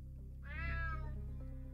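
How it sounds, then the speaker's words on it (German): A cat meows once in the video game UnMetal, a short rising-and-falling cry heard alone over a low steady background hum. "Verfluchte Katze."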